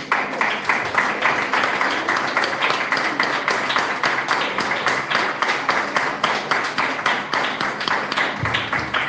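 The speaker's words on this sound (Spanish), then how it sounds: "Fuerte el aplauso por el Señor" A church congregation applauds steadily, many hands clapping in a dense, rhythmic patter that holds at an even level throughout.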